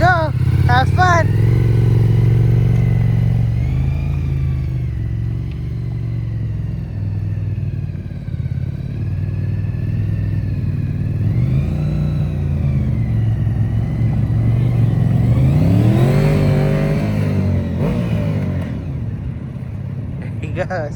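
A Honda VFR750 motorcycle revs close by, its engine note rising and falling in several swells before climbing in a strong rev as it rides off, with a steady loud rumble throughout.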